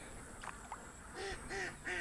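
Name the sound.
ducks quacking near a duck house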